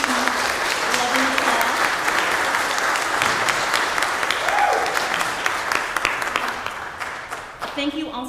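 Congregation applause at a Sunday church service in thanks to volunteers, sustained close clapping of many hands that continues for several seconds and fades slightly near the end as a voice resumes.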